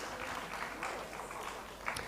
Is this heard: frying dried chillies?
no